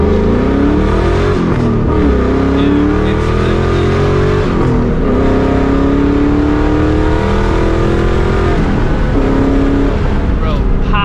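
Deep, loud V8 exhaust from a 2004 Ford Mustang GT with a Borla ATAK system, revved repeatedly up and down in close range, a steady rumble between pulls and no one speaking.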